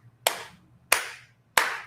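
Three sharp, evenly spaced claps ring out one after another at a Chief Hall Festival fundraising gathering, each bursting crisply and fading quickly over a faint low background hum.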